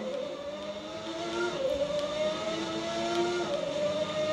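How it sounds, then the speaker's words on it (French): Ayrton Senna's 1991 McLaren race car at the Austrian Grand Prix: a high, whining engine note holds steady, then its pitch shifts through gear changes. It sounds close and continuous, with no voices. "Avec cette voiture, la McLaren 91 d'Ayrton Senna,"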